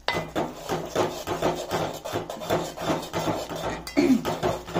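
A spoon scrapes and knocks against a hot pot while a jaggery and ghee mixture is stirred. The strokes are steady and repeated, close by and fairly loud, with no voices.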